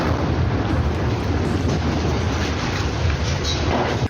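A TBG anti-fortification shell fired at a house in Khan Younis sets off a loud, sustained blast roar. The deep rumble holds steady for several seconds before cutting off abruptly at the end.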